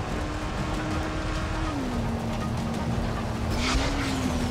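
A car drives in Dying Light: The Following, its engine holding a steady drone with a shift in pitch partway through, over constant road and tire rumble and a brief burst of gravelly noise near the end.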